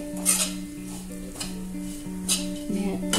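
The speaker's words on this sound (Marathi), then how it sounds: "त्यांना व्यवस्थितरित्या परतून घ्यायचे तुपावर" Almonds sautéed in ghee in a pan, with a few scraping stirs over a low sizzle and a steady tonal hum in the background.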